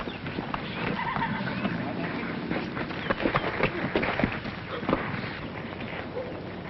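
A thoroughbred horse in an old black-and-white horse racing comedy film whinnies and its hooves clip-clop in a loose rhythm, mid-loud, mixed with voices and other film sound.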